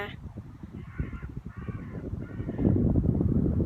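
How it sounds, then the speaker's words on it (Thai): Several harsh crow caws sound at a moderate distance, repeated in a loose rhythm over steady outdoor background noise. "เสียงนกเสียงกา"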